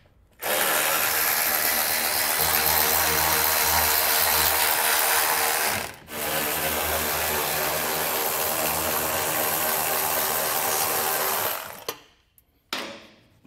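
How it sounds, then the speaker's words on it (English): A ratchet with a 15 mm socket spins out bolts holding rubber isolators during a trailer hitch install, a steady close whirring clatter running about eleven seconds with one brief pause. "So we can start with a 15-millimeter socket, and we'll remove the rubber isolators back here."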